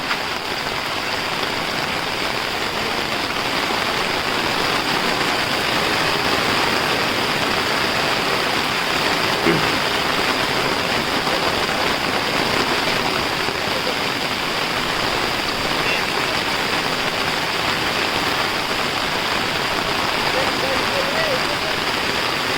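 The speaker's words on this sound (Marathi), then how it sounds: "गावी कोकणामध्ये ह्या टायमाला जबरदस्त पाऊस पडतोय" Heavy monsoon rain in Konkan pours in a loud, unbroken roar, blended with the rushing flow of a small nearby waterfall, steady for the whole stretch.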